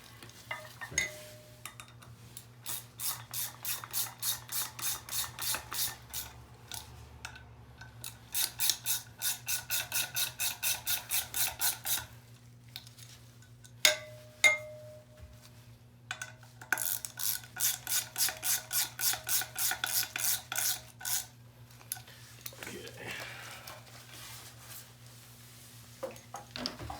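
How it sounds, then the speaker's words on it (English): Bolts on a Peloton bike are screwed in and tightened, making repeated quick bursts of fast ratchet clicking separated by pauses, fairly faint with a low hum underneath. "Screw in the 2 bolts and then you tighten."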